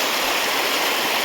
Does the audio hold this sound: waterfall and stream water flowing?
yes